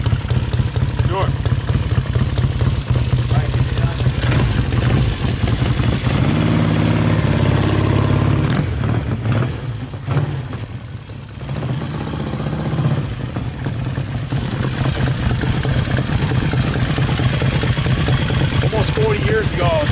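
A 1968 Triumph T100C Trophy 500 motorcycle runs loud and close, its engine and exhaust rumbling steadily, dipping briefly as it passes down the street and then building again, with people talking over it.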